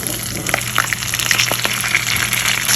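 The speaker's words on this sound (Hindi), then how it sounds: "अब इसमें टमाटर डाल दूँगी।" Tomatoes fry in a pan of browned onions and ginger-garlic paste, a loud, close, continuous sizzle with bubbling crackles and occasional stirring.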